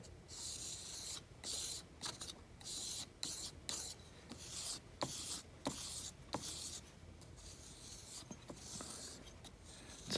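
A leather working knife blade is worked against buffing compound, making soft, irregular rubbing and scraping strokes in short bursts with brief pauses. The sound is close and quiet, and nobody speaks.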